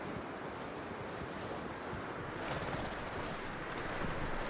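Horse hooves clip-clopping at a steady walk in the Red Dead Redemption 2 prologue, set against a continuous wind-like outdoor bed of noise with no talk.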